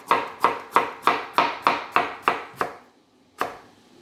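A knife chops steadily on a cutting board while preparing Jamaican brown stew fish: eight crisp, evenly spaced strikes, then a pause and one final chop, close and clear with no talking.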